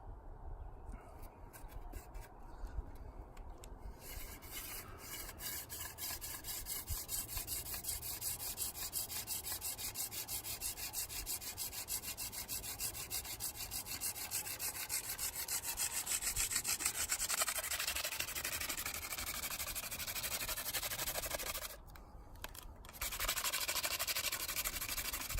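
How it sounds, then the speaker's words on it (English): A wooden spindle grinds against a wooden board in a primitive friction fire, making a continuous, fast, rhythmic rasping that runs on for a long stretch, pressing harder toward the end, with a brief pause before it resumes. "I can get a lot of downward pressure on the spindle, and my hands aren't sliding on it"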